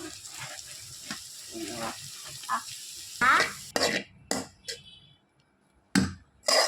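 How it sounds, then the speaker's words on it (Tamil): Carrots fry in oil in a pan, giving a light sizzle broken by stirring scrapes and sharp utensil clatters, with quiet gaps between the bursts. "இப்போ நாங்க ஆயில் போட்டுக்கலாம். நாங்க கேரட் போட போறோம்."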